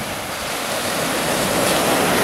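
Ocean waves wash steadily onto the shore on the edge of a town in the evening, a continuous broad roar of surf with slowly swelling intensity and no voices.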